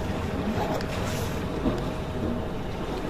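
A sailboat's engine runs in reverse while the boat moors, giving a steady, loud low rumble with wind and water noise and no clear pauses.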